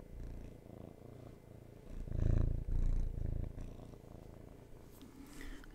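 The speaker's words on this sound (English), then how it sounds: "if you hear that beautiful purr in the background" A soft, rhythmic cat purr rumbles close by, swelling louder for a couple of breaths in the middle before settling back.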